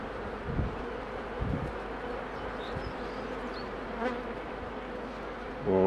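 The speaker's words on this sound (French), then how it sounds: "On va chasser un peu les abeilles" Honeybees buzzing around a beehive brood-rearing frame as a beekeeper brushes them off, a dense steady insect hum with a few soft thumps and a louder rustle at the end.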